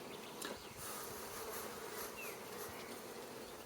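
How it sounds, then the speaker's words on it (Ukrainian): Honeybees hum in the hive of a newly caught swarm. The buzzing is close-up, continuous and fairly quiet, with individual bees whining past and no talk. "Видно, що бджілки носять собі пилок."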